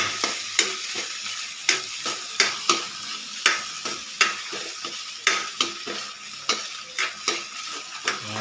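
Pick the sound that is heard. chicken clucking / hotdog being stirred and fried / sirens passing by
hotdog being stirred and fried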